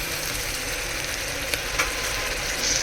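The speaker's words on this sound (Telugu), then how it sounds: "ఇది కూడా ఫ్రై అవ్వాలి. జింజర్, గార్లిక్, కొత్తిమీర అండి." Ginger, garlic and coriander paste frying in a pan for a dhaba-style mixed vegetable curry, a steady close sizzle with a couple of faint stirring scrapes and no talk.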